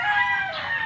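A rooster crows loud and close in one sustained, strained call that runs through the whole moment.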